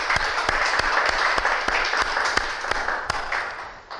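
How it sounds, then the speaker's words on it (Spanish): A church congregation applauds the Lord together, giving steady, dense clapping with a few sharper individual claps standing out, sustained for several seconds at fairly close range before easing slightly at the end. "Dele un aplauso al Señor, mi hermano."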